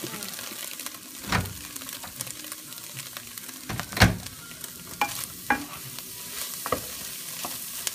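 Carrots sauté in a pan, a continuous sizzle broken by loud spoon scrapes and knocks as they are stirred, close and busy, with no talk.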